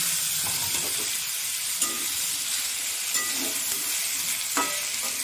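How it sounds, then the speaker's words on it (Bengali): Jackfruit and potato stir-fry in hot oil in a kadai, giving a steady, moderate sizzle with occasional soft scrapes and knocks from stirring. "এটা আমি হালকা নেড়ে চেড়ে একটু ভেজে নেব।"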